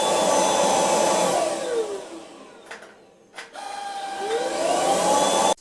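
An Ultenic U10 vacuum cleaner runs with a loud, steady whir, then winds down and goes briefly quiet with a couple of clicks, and afterwards spins back up to full power.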